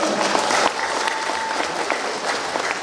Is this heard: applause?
yes